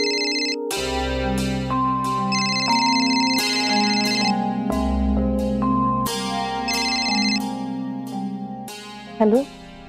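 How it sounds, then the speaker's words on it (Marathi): A phone ringtone ringing before a call is answered, a bright repeating electronic melody in short phrases, loud and close, ending with a brief clatter. "मग मी लगेच कार्तिकीला फोन करू, तिला इन्व्हाइट करते."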